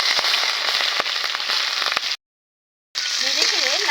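Chopped onion frying in mustard oil in a pan, a steady dense crackling sizzle that stops for about a second, then resumes while a voice hums or speaks over it.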